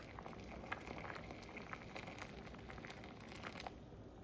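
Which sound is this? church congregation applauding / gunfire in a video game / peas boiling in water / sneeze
peas boiling in water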